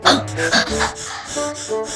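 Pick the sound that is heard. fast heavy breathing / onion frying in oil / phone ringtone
fast heavy breathing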